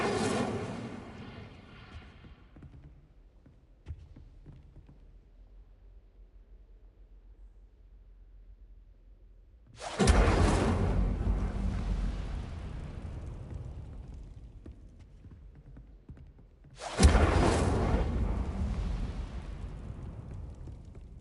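An Incendio fire spell in Hogwarts Legacy bursts twice as loud, sudden blasts, each trailing off into a roaring, fading rumble, after a quieter stretch of dying noise.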